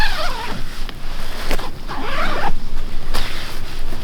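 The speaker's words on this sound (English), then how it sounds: "I'll zip it up for you right now so you can see" A zipper on a Nemo First Lite Recurve 2p shelter is pulled closed in several quick, close, loud strokes separated by short pauses, with no talking.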